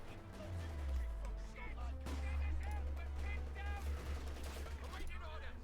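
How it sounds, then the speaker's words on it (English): An MG-34 machine gun rattles in sustained bursts during a Company of Heroes 2 battle, with rapid repeated shots over a heavy low engine rumble from nearby armour. "Sabbath held down by an MG-34 on the west"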